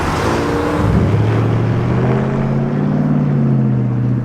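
A car engine fitted with an H-pipe exhaust rumbles at low revs, a steady, deep droning note with slight pitch wavering, close and continuous with no speech.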